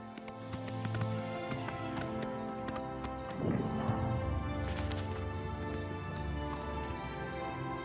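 A horse's hooves clip-clop at a gallop in the video game Oblivion Remastered, forming a steady, fairly faint rhythmic patter over game ambience, with a brief louder thump partway through.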